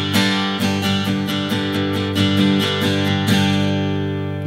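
Steel-string acoustic guitar strummed in a 16-beat cut pattern, loud and close, with quick rhythmic muted down-and-up strokes that ring chords between choked accents, with no voice.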